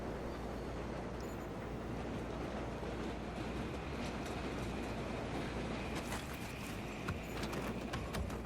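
A train rolls along in the Battlefield 3 campaign, a steady dense rumble with rhythmic clattering and some metallic squeals toward the end, loud and continuous with no talk.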